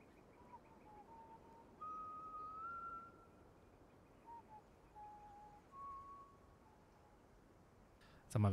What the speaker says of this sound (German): Sag mal, wer pfeift denn da?